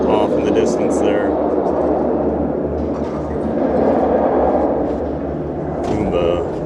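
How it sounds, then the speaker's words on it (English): The Kumba B&M roller coaster at Busch Gardens gives off a distant, steady low roar that rises and falls gently beneath nearby crowd and park ambience. "I can hear Kumba's roar off in the distance there."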